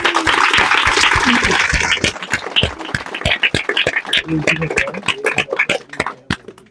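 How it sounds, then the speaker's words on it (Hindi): A congregation at a Christian gathering about the gift of tongues claps for people on stage; loud, thick applause at first that thins into scattered, uneven individual claps, with voices mixed in. "इनके लिए तालियां बजाइए।"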